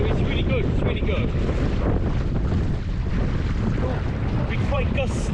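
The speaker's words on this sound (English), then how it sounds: "It's quite gusty, especially going the other way to this." Gusty wind buffets a dinghy under sail on Lake Bala, a loud continuous rush with microphone wind roar and water splashing against the hull, steady throughout with faint voice traces underneath.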